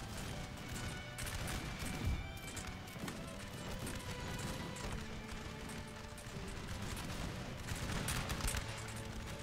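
Distant musket volleys crackle continuously in a Napoleon Total War battle, a dense rolling rattle of fire mixed with hoofbeats and battlefield noise, with no clear pause.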